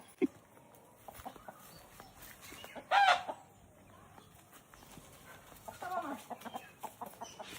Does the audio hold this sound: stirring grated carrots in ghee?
no